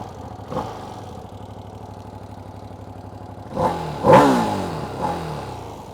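A Ducati Panigale V2 motorcycle engine idles steadily at a standstill in neutral, then is revved in a couple of sharp, loud blips that fall back to idle.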